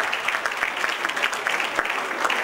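Steady applause from a conference audience for the second-place winner at a technical session on computer graphics and artificial intelligence. Dense, even clapping fills the short stretch at moderate volume, with no voices on top.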